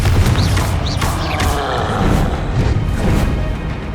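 The Confringo fire spell explodes in the Hogwarts Legacy video game, a loud, dense, continuous crashing blast with swooshing magical whooshes layered over rumbling low end, close and intense throughout.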